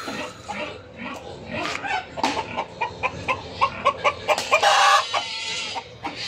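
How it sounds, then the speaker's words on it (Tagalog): Fighting roosters cluck in quick repeated bursts with a short crow, nearby and fairly loud, amid some background noise. "Panabong panlaban ng mga manok"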